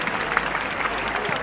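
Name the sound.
audience applauding at concert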